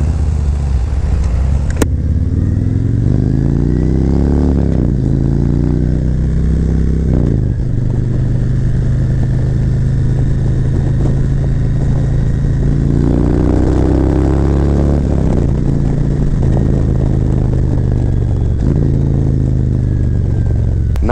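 A Harley-Davidson Road Glide motorcycle cruising at speed, its engine droning loud and steady with rising and falling pitch as it shifts and accelerates, mixed with constant wind rush and no talk.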